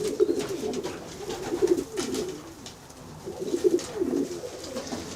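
Racing pigeons coo inside a spacious young-bird loft, soft throaty rolling calls repeating in two bursts, close and moderately loud over faint room noise.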